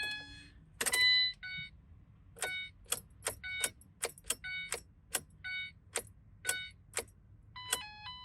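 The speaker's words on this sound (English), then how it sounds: "We're gonna start it up and see if the van works." A van's warning system beeps repeatedly after a repair with four new coils and a new PCM, while the immobilizer blocks starting. The first beeps overlap a brief clatter, then chimes ring out in an irregular series, clear and close against quiet hum.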